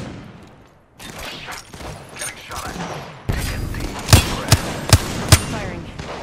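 Video game gunfire: a steady run of automatic shots under radio-style voices, then several sharp, loud single bangs at regular intervals near the end.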